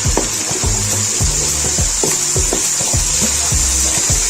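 Tomatoes sizzle loudly in a hot pan for aloo gobi, a constant frying hiss broken by regular spoon scrapes and clacks against the pan.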